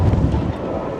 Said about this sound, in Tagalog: Napasabak tayo, ang lakas ang hangin.